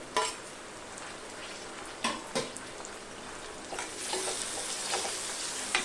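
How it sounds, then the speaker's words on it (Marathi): Chopped tomato goes into a hot pan with asafoetida, a steady sizzle of frying food punctuated by scraping stirs and occasional clinks of a spoon against the pan, close up and without talk. "थोडस हिंग आता हा टोमॅटो घालायचा"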